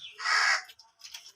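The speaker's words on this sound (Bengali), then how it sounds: "কাক কাক ডাকছে" A crow caws once, loud and fairly close, followed by a couple of fainter, shorter calls, with no talk over it.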